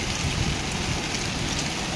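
Heavy rain pours steadily, a dense unbroken hiss of drops hitting surfaces, with no voices.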